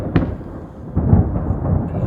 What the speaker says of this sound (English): And the thunder's getting quite noisy.